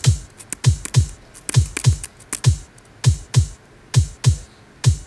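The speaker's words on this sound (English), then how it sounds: "So now I hit keyboard number 5," Keys on a computer keyboard are tapped one at a time in a steady rhythm, about a dozen crisp, close clicks with short gaps between them and no voices.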